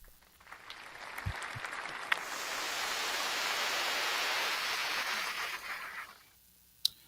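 Applause from a podcast audience, a broad wash of clapping that swells in after a second, holds steady for several seconds, then fades out, with a few sharp knocks near the start and end.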